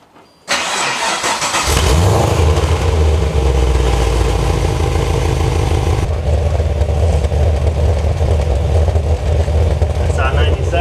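A motorcycle fitted with a $33 Amazon muffler starts up abruptly, then runs at a loud, steady rumbling idle with slight revving, close to the microphone.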